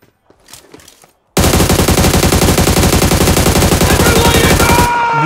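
Gunfire in the battle royale game PUBG Mobile: after a brief quiet lead-in, a loud, sustained automatic burst hammers on for several seconds in a rapid, even rhythm, then cuts off abruptly.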